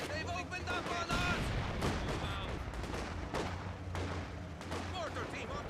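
Battlefield gunfire in Company of Heroes 2: steady crackling machine gun bursts and heavier booms in a dense, continuous mix, with a voice speaking over the noise.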